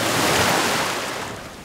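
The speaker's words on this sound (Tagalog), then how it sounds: "medyo malakas na rin ang alon na tumatama sa aking bangka." Strong waves slap against a small fishing boat at sea, a loud, continuous wash of surf that gradually fades over a couple of seconds, with no voices.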